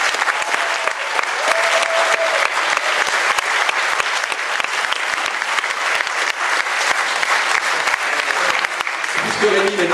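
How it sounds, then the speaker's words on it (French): Loud, dense audience applause at an amateur theatre festival awards ceremony in Mayenne, a continuous roar of clapping that cuts off abruptly at the very end. "je vous demanderai de faire un tonnerre d'applaudissements pour toutes les troupes de théâtre amateurs de la Mayenne"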